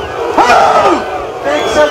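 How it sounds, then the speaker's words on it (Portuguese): A crowd at a 2014 workers' assembly breaks into a loud collective shout. Many voices rise together and hold for about two seconds, close and dense. "levanta a mão e vamos gritar!"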